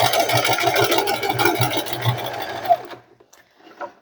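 A sewing machine runs a seam on a mini tote bag with a rapid, even stitching rhythm for nearly three seconds, then stops, followed by a few faint clicks.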